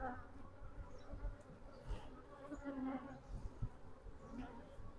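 Honey bees buzzing around an open hive during a beekeeper's frame inspection, a continuous low droning hum with fluctuating intensity, close by and steady throughout.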